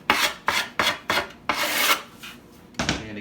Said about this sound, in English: So we're gonna bring our file. We're gonna mark along the edge.